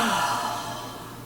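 A yogi's forceful open-mouth Ha breath exhale during a calming yoga practice, one soft breathy whoosh that fades out over about a second, close and alone.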